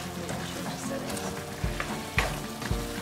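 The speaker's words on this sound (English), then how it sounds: "So see, you simmer it like about 2 minutes." Shrimp and broccoli simmer in a pan with a soft continuous sizzle, punctuated by a few low knocks and scrapes of a utensil against the pan.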